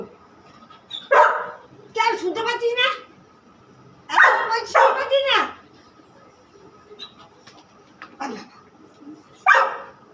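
A dog barks and yips in short clustered bursts, close by, alternating with a person speaking excitedly; quiet gaps between.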